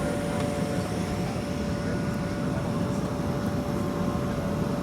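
Cabin noise inside an older Thai Airways Boeing 737-400 on a flight from Koh Samui to Bangkok: a constant, loud, even engine and airflow roar with a faint steady tone and no talking.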